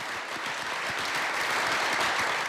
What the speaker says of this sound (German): Beifall für die Retter aus 5 europäischen Ländern.